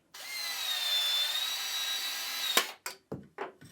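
A Milwaukee M12 PVC shear (2470-20) cuts ABS pipe about an inch from the edge, with a steady high motor whine lasting over two seconds, then a few short snips and clicks.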